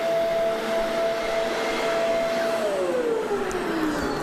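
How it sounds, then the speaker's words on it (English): A vacuum cleaner runs steadily with a loud, constant whine and roar while someone rides on it, and its pitch sags lower toward the end. "First time you ever got to ride on a vacuum, right?"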